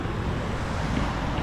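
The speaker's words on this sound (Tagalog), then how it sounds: "Lakas ang agos oh." Strong water current rushing through a dam, a steady dense roaring wash with low rumble, close and continuous without talk.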